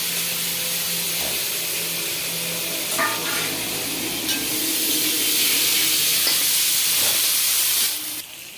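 New potatoes fry in oil in a wok, giving a loud continuous close sizzle with occasional utensil clinks and scrapes, easing slightly at the very end.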